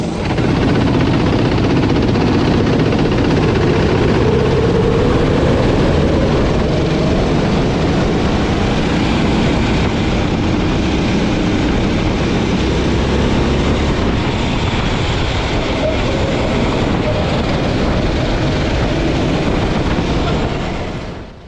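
Racing kart engines in a race start at a championship round at Jovikart, Nantes, a loud, sustained, dense buzzing drone heard close throughout, with no talk.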